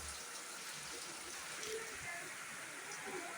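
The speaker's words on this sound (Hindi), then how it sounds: "बहुत तेज बारिश हो रहा है" Heavy rain at night sends a steady, dense hiss across the whole stretch, with no pauses and a faint patter over an even wash.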